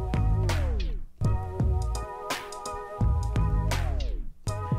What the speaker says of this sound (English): you've got a sort of vinyl break effect here on the left